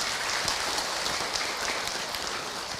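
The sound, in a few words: audience applause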